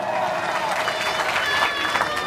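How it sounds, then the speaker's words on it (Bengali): An audience at a Bengali cultural program bursts into loud, continuous applause, a dense patter of many hands clapping together close by for the whole stretch. "জোরে একটি হাততালি দেওয়ার জন্য।"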